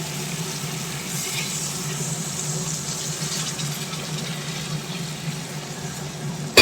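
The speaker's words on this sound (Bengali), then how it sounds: "এবার এর মধ্যে দিয়ে দেবো গরম জল" Hot water goes into a pan of sautéed vegetarian squash and potato curry, making a steady watery rush with a soft sizzle that runs the whole time, ending with a brief louder knock.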